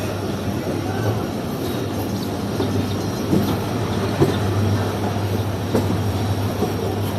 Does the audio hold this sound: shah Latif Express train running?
yes